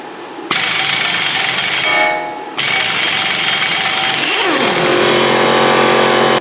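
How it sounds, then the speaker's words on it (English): A 32 mm socket on the axle nut of a 2008–2016 Town & Country or Grand Caravan is broken loose with a power tool, a loud continuous rattling hammer with a brief dip, then a rising then steady whine, close up and without talking. "to loosen this you need a 32 millimeter socket. Put it on the axle nut and break it loose."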